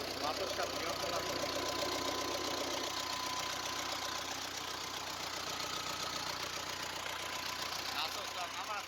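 A Belarus MTZ tractor engine idles with a steady, dense mechanical knocking hum that stays constant throughout, close by, with a voice talking faintly underneath.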